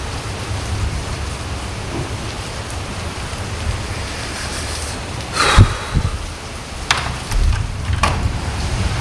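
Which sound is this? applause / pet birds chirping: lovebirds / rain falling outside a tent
rain falling outside a tent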